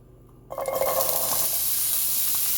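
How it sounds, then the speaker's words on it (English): Ingredients for a tourtière filling hit a hot pan at about half a second and break into a loud, steady sizzle with crackling spatters that continues to the end. "We're going to get that sauteing a little bit."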